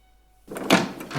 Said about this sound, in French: La porte tout à coup s'ouvrit,